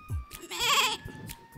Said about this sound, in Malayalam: ആട് കരയണത്.